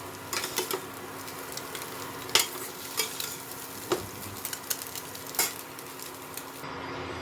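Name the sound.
egg frying in a pan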